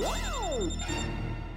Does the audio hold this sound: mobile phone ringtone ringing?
yes